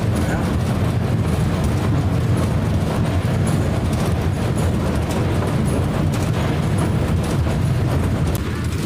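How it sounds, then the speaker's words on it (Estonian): Athens metro train running along the rails in the evening, a loud continuous low rumble and rattle of wagons that holds steady throughout at close range. "Ikka tuleb mingi rong vastu."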